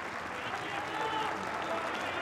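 Applause and crowd noise from spectators at a high school football semifinal in Kanagawa, just before kickoff, a steady broad wash of clapping filling the stadium throughout.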